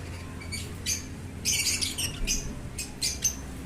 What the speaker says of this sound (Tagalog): yun yung mga pangmalakasan nating ibon sa ating aviary ngayon